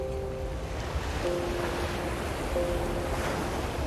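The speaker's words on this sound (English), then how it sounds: "Now there's the sound of waves, and a soothing breeze that touches his soul." Ocean waves in the film Moonlight: a steady, broad wash of surf with soft wind noise, moderately faint, under a few thin sustained musical tones, with no voices.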